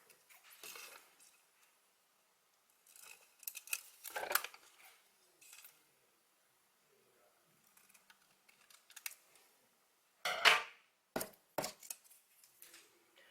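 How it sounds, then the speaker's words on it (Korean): Scissors cutting diffraction grating film, heard as sparse clusters of crisp snips and plastic rustles separated by quiet pauses, close to the microphone with a sharper burst near the end. "가위를 이용해서 잘라주도록 합니다."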